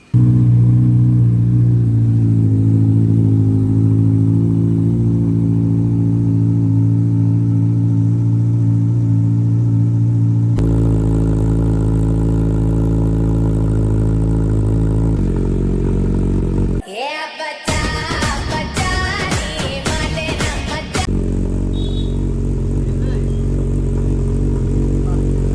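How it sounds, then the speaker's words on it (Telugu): A sports bike engine idles loud and close with a deep steady rumble, then shifts to a harsher tone before sharp bursts of revving blare from the exhaust, with no talking. "ఇప్పుడు దీన్ని ఎగ్జాస్ట్ మీకు వినిపిస్తాను"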